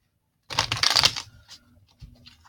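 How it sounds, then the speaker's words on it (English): Zombie tarot cards are shuffled briskly in a dense, crisp riffle burst lasting under a second, followed by a few soft, scattered card taps and slides close by. "One more shuffle should be good"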